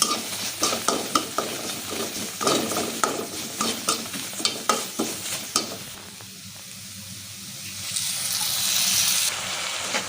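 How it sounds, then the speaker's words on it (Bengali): Chicken meat cooking in a pan with spices: repeated stirring scrapes and a steady sizzle of frying in the first part, then a quieter hiss with a faint running-water wash near the end. No one speaks. "তো এবারে আমি আগে মুরগির মাংসটা রান্না করে নিই।"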